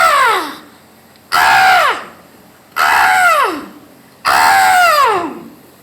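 At a retirement function's mimicry show, a performer imitates a crow's caw with his voice: four long, loud, harsh cries with falling pitch, evenly spaced with short pauses.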